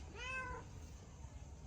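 A black cat gives a single short meow, quiet and fairly close, with faint background hiss afterward and no talking.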